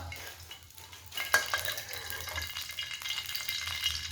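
Oil heating in a wok for a Thai stir-fry of liang greens with oyster sauce, giving a soft, steady sizzle with light scraping and clinks of a utensil against the pan, close by and with no talk.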